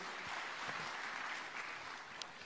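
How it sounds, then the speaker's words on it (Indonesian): Congregation clapping during an online worship service, a steady continuous patter of applause at moderate distance, even and unbroken throughout with no talk over it. "Berikan tepuk tangan buat Allah kita."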